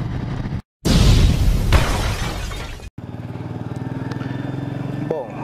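A motorcycle climbs a mountain road to Portal do Caparaó in Pedra Menina, Espírito Santo, with a loud burst of engine and wind roar, then a steadier close engine drone as the bike rides on.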